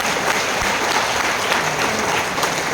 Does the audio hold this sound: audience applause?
yes